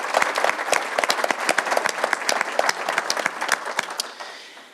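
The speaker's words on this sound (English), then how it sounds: "Let's give Ed a round of applause." An audience at a business panel event applauds, dense overlapping claps swelling then tapering off as the clapping fades out.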